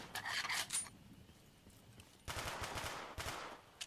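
Gunfire in a Black Ops 3 custom zombies map: two loud bursts of rapid shots, one short volley at the start and a longer rattling burst near the end, with a quiet gap between.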